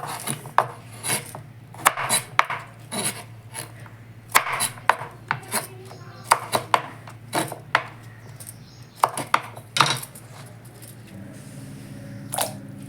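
Irregular knife strokes chopping raw jackfruit on a board, sharp taps and scraping rubs at uneven intervals, close and fairly quiet.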